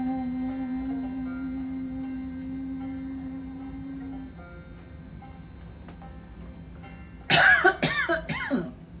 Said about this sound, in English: I am so sorry about the coughing.